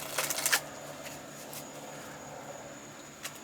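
Tarot cards being shuffled by hand, a quick burst of riffling flutters at the start, then quiet with a single faint snap near the end, close and soft with no talking.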